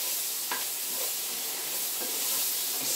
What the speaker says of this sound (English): Just sweating those onions down